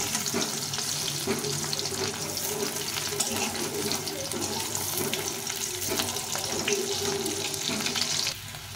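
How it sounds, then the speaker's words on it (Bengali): Three small potatoes fry in a pan until browned, giving a steady, close sizzling hiss that runs continuously with no voices. "আলুটা একটু ভালো করে লাল লাল করে ভেজে নেব।"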